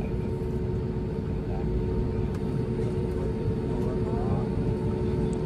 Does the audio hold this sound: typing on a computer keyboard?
no